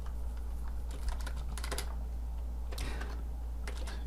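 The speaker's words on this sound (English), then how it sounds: "If I can type, there we go." Light tapping on a computer keyboard while naming an HTML file, a few short bursts of quiet keystrokes separated by pauses, alone over a low steady hum.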